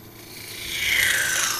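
Wood being sanded on a turning lathe at a woodturners' meeting gives a close, steady abrasive rub that swells louder midway and holds, with no talk.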